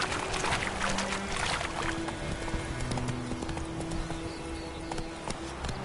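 Roach, the horse in Witcher 3, gallops in quick rhythmic hoofbeats under a busy game soundscape with music tones, loud and continuous throughout.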